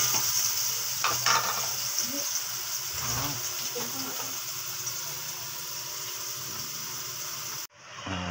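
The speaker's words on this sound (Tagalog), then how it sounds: "Lutuin na natin ang tahong." Mussel soup cooking in a pot: a steady bubbling, sizzling wash with occasional stirring clinks runs for several seconds, then cuts off abruptly near the end.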